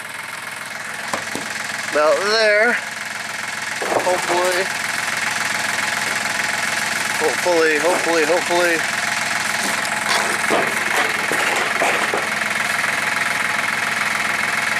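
A heavy machine's diesel engine runs at a steady, rumbling idle with exhaust noise throughout, close by, while someone speaks briefly over it.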